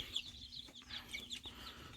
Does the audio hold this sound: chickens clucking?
yes